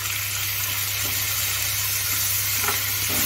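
Onions frying in a pan as tomato masala is added for sev tamatar curry, a dense continuous sizzle close by with faint stirring scrapes and no talk.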